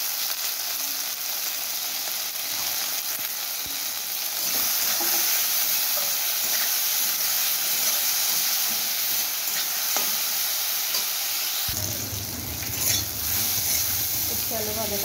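Bitter gourd and potato slices fry in a pan with salt and turmeric, a constant bright sizzle with occasional stirring scrapes, growing busier near the end.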